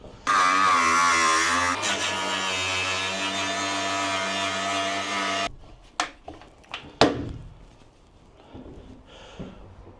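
A cordless angle grinder cuts a hole in a camper van body during a conversion, whining loudly and steadily for about five seconds before cutting out, followed by a few scattered knocks and clunks.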